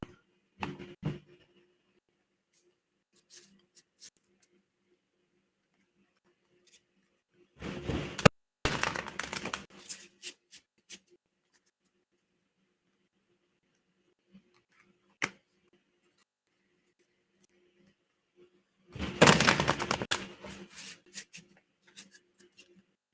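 Two bursts of crisp riffling card shuffles, with scattered soft taps and card handling sounds in between, fairly quiet and close.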